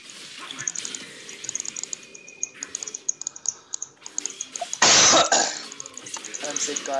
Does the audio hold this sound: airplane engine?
no